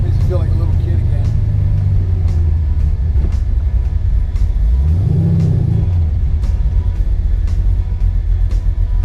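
A Chevrolet Chevelle rumbles while driving, its low engine note droning loudly inside the cabin and swelling in one rev that rises and falls midway, with people talking over the engine.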